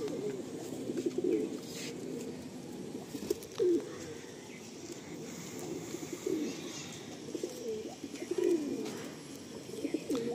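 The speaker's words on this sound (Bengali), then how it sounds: "এটা মাদি পায়রা দেখুন" Madrasi pigeons kept for sale coo in low, repeated rolling calls, several birds close by, with faint chirps and small rustles in the background and no speech.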